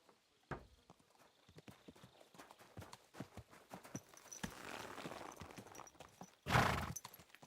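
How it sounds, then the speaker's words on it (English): Horse hooves clip-clop in Kingdom Come: Deliverance 2, a steady run of sharp close hoof strikes, a burst of louder rustling mid-way and a loud snort or whinny near the end. "Watch out with that horse!"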